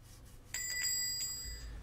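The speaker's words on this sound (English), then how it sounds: "We got a doorbell now." Bright metallic ding-dong chime of the shop doorbell in the cooking game Papa's Burgeria, two clear ringing tones that sound alone against quiet background.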